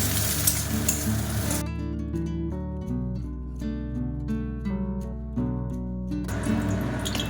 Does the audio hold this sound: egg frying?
yes